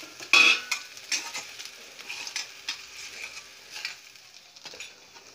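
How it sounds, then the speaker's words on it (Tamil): A spoon stirs fish fried rice in a hot pan with a low sizzle, sounding as scattered scrapes and clinks of metal on metal, close by with no voices. "கிண்டும் போது பார்த்து மெதுவாக கிண்டுங்க"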